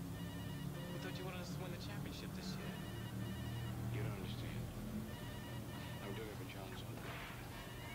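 A phone left in a bedroom rings in short, repeated bursts, fairly faint, under constant background noise and scattered voices.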